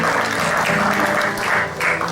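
Audience applause for a 16-year-old guitarist at a music pre-show, a close, uneven patter of clapping hands with faint room sounds underneath.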